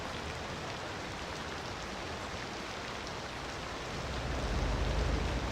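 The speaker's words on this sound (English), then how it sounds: "Wow, that is some loud-ass rain." Heavy rain falls in the city-building game Cities: Skylines II, a dense, steady hiss that swells louder toward the end, with no talking over it.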